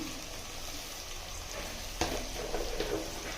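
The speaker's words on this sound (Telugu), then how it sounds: "ఇదిగోండి అల్లం వెల్లుల్లి పేస్ట్ వేస్తున్నాను కొద్దిగానే." A small amount of ginger garlic paste frying in a pan for raw banana kofta curry, giving a steady close hiss and sizzle with a brief crackle and stirring scrape partway through.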